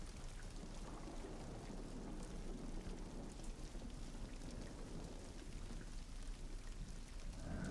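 Steady rainfall in a Call of Duty 4: Modern Warfare Remastered map, a dense, even hiss of rain with a low rumble beneath, continuous and unbroken, with no speech.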